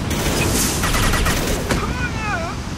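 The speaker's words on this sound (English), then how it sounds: "That's fucking how you use a missile launcher." A missile launcher fires in Mass Effect 2, a dense run of loud blasts and booms packed close together, with a short whistling tone sweeping down near the end.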